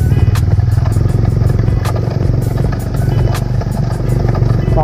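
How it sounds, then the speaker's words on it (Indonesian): Off-road trail motorcycles ride past during a charity ride in Panabo, giving a loud, steady engine drone with rattling clatter throughout and faint voices mixed in. "Pangkwana ni mo mga motor, mga karangrang, pang off-road."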